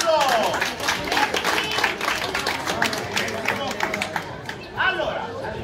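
A crowd applauds during a street show in Costa Adeje, Tenerife: dense, steady clapping mixed with chatter and a few raised voices, continuous across the stretch and fading slightly near the end.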